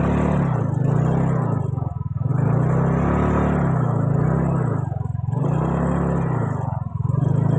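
A motorcycle engine rides close by on a road near Lake Beko in Tegal, a steady rumbling drone that swells and dips in slow cycles, loud and continuous with no talk.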